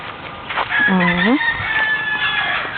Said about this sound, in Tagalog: Puro tilaok pa ng manok.